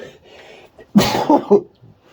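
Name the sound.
sneeze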